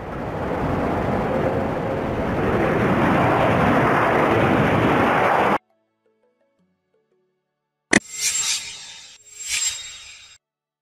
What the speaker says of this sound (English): A jumbo jet is a large aircraft capable of carrying hundreds of passengers.